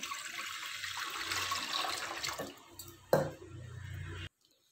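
Water poured from a tumbler into a cooking vessel while making ven pongal, a steady splashing pour running for several seconds, then a brief louder splash before it stops abruptly.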